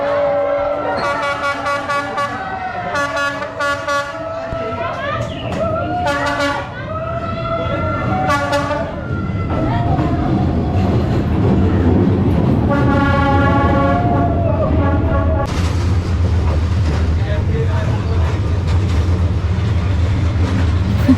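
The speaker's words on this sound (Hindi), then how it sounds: "तो बस हम लोग अपनी ट्रेन का वेट कर रहे थे एंड हियर इट" Train rolling through Hanoi's narrow Train Street, its horn sounding in repeated loud blasts before the rumble of cars passing close by builds into a heavy, continuous roar.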